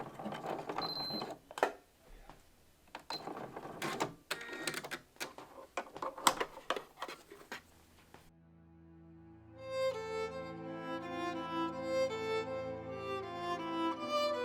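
A sewing machine stitches a test buttonhole on a scrap of thick fabric, rapid close mechanical clattering in short uneven bursts for about eight seconds, then gentle background music takes over.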